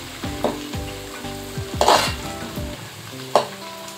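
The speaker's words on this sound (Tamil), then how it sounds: "பச்சை மிளகாய் சேர்த்து நல்லா வதக்கிக்கலாம்" Green chillies and onions sautéing in hot oil for a Pongal kootu curry crackle loudly as they are stirred, with repeated bursts of sizzling and spatula scrapes over a steady frying hiss, with no talking.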